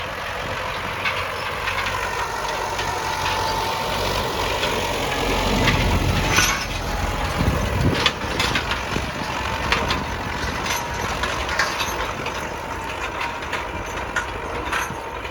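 A YuMZ tractor drones steadily while pulling a Hermes harrow across a field, the engine rumble continuous and moderately loud, with scattered rattles and knocks from the implement.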